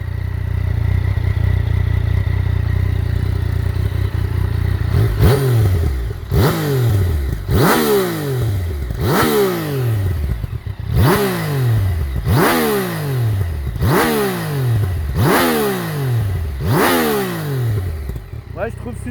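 Yamaha MT-09 SP 2019 motorcycle with its stock exhaust, revved hard in a series of about nine sharp throttle blips that each fall away quickly, loud and close after a steady idle.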